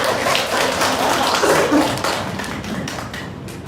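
A classroom of high school students applauds a group after its presentation, with dense, steady clapping that stays loud and then tapers slightly toward the end.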